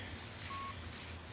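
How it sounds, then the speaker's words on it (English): A metal detector gives one brief, faint steady tone on an aluminum or zinc target, heard outdoors over a soft background hiss. "Getting a signal right here. It's ringing up in the aluminum zinc"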